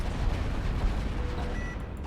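Kinetic cannons firing in the Final Theory space battleship game: a dense, continuous rumbling barrage of heavy booms blending into a loud low roar with no pauses.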